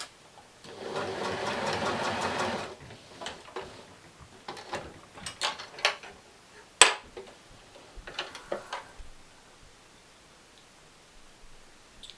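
A sewing machine stitches fashion doll tights in a fast, steady burst lasting about two seconds, then stops, followed by scattered clicks and handling noises of fabric and machine parts, close and quiet.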